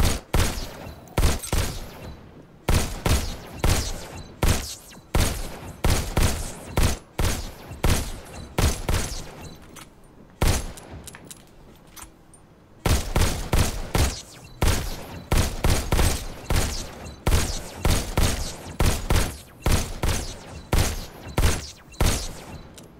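Rapid gunfire from the VR shooter game Robo Recall, loud and close, with sharp shots in quick bursts and volleys repeating steadily throughout, broken by a brief lull midway.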